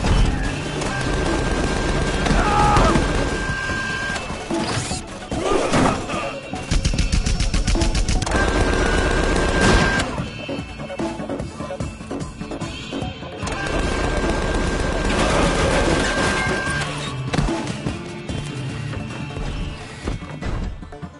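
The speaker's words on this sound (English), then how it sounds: "Please stop shooting me." Gunfire in the Tales from the Borderlands video game, loud rapid automatic bursts and crashing impacts in long stretches separated by brief lulls, with no talk over them.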